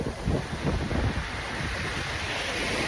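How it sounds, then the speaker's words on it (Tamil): Stormy sea with heavy waves surging against and into coastal buildings on an island during a cyclone, a loud, continuous roar of surf and wind buffeting the microphone, with heavier pulsing crashes in the first second. "அலைகள் வந்து அடிக்க காட்சியை பாருங்கள் கட்டடமே வந்து உள்ளே போய்கிட்டு இருக்கு"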